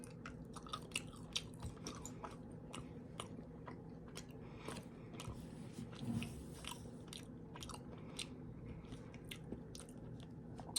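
Soft, close chewing of a Junior Mint chocolate candy, with repeated small wet bites and crunches in a quiet room, fairly faint and steady throughout.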